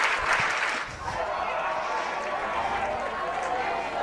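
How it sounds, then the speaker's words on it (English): A baseball crowd at a high school 6A consolation semifinal, Lehi versus Davis, raises a sustained roar of chanting for Lehi, loud and dense throughout with a brief swell at the start. "Let's go Lehi chants start to rise up from the crowd"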